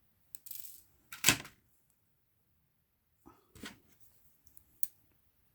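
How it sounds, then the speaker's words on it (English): Wire cutters snip the end off a length of wrapping wire around a mother-of-pearl cabochon: a sharp close click, then a few lighter taps and small handling clicks separated by quiet gaps, with no talk. "So I will snip off the end piece."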